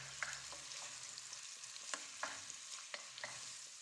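Finely chopped onions fry quietly in a pan for a dhaba-style chicken handi, a soft steady sizzle broken by several light scraping stirs of a spoon, with no talking.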